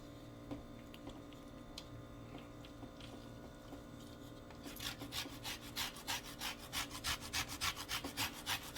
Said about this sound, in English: And do a little more lemon zest.